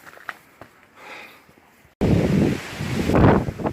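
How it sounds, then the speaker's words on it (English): Strong wind gusting on a mountain trail through tall grass in the Great Smoky Mountains near Smokemont, starting quiet with faint rustles, then suddenly roaring loudly against the microphone in buffeting bursts. "The wind's really blowing."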